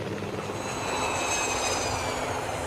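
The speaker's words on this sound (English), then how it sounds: "Thomas has two friends who don't run on the rails: Jeremy the plane and Harold the helicopter." The cartoon plane Jeremy from Thomas and Friends drones with a steady, loud airplane engine hum, a continuous whine with a faint rising pitch running through it.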